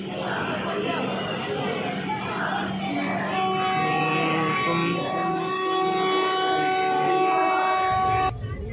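A train rolls into Haridwar railway station with a steady mechanical rumble and a long sustained horn-like tone, over crowd chatter and voices on the platform.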